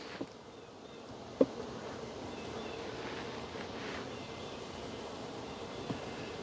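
Bees drone around an open beehive with dry frames, a steady soft buzzing hum filling the background, with a couple of faint knocks.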